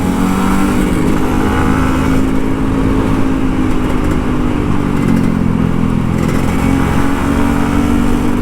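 A Kawasaki Ninja RR 150 two-stroke sport motorcycle engine roars steadily at close range while riding, with a rough mid-pitched drone and slight swells in revs.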